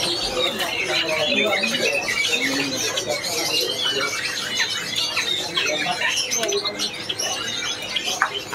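Songbirds such as cruk-cruk and bondol chirp and tweet in busy overlapping bursts at a bird market, close and lively, with people talking over them.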